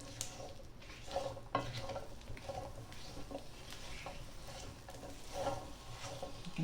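Onions sizzle and crackle in hot olive oil in a pan, with a steady frying hiss and occasional stirring clinks and scrapes of a utensil against the pan, close up and with no talk.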